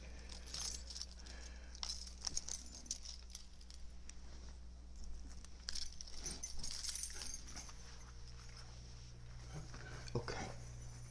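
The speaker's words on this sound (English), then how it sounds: "Take these keys off." Keys jangle and clink in short bursts as a bunch is handled and taken off, set against a steady low hum in an indoor class setting.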